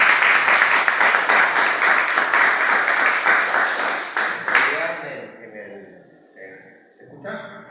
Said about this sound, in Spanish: Gracias, aplausos.